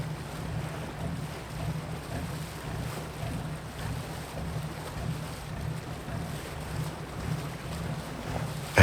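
Gentle ocean waves wash softly and steadily in the background, a faint, even rhythmic swell with no voices over it.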